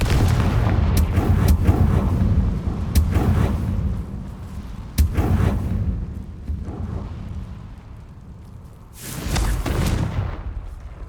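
Confringo blasting spell explosions in the Hogwarts Legacy video game, with several loud, booming blasts spaced through the clip against a rumbling background, each dying away before the next.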